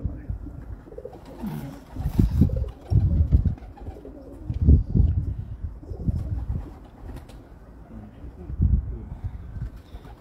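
Pigeons kept by a breeder coo in deep, low repeated phrases, several rounding bursts spaced a second or two apart, close by, with some faint background voices.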